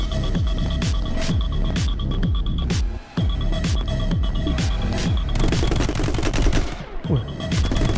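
Rapid gunfire from the video game My Friend Pedro crackles in dense, repeated bursts with a brief pause midway, loud and continuous with no talking.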